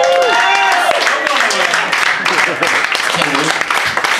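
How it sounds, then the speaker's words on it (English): Comedy club audience at an open mic night in Melbourne, Florida applauding and cheering a comic off stage, loud and dense throughout, with shouts and voices mixed into the clapping. "Let him hear it. Clap it up for him."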